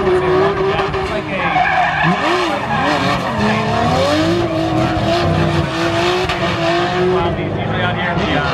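A twin-turbo Z race car slides and skids on track at a GRIDLIFE South event, its tires squealing in long wavering tones over a loud engine drone, close and continuous, with commentary voices underneath.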